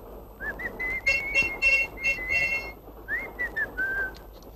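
Several short whistled phrases, rising and wavering, fill the clip, made to set off a key chain that whistles back when its owner whistles, with faint room noise beneath and no talk.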